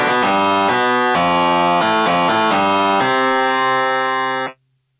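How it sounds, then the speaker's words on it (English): Electric guitar played through a Governor overdrive pedal modelled on the Marshall Govna, a short run of loud distorted notes and chords that rings out and is cut off sharply near the end. "Governor is a simulation of the Marshall Govna."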